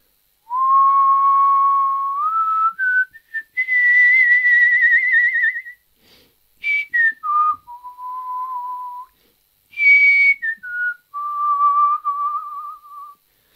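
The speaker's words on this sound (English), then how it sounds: "I'm going to whistle just so you can see what I mean" Person whistling a tune, clear pure tones sliding up and down between held notes in several phrases separated by short pauses, close and loud with no talk.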